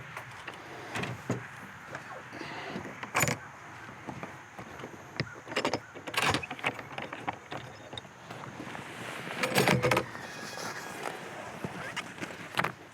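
A lightweight aluminum truck-bed camping tent pops up with scattered clanks, clicks and thumps of the frame unfolding, close and irregular over faint background noise.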